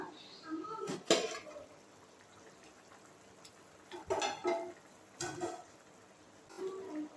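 A lid comes off a pot of crab gravy cooking on the stove, making a few metallic clanks and rattles spaced apart, with a faint bubbling between them and a voice speaking quietly in the background.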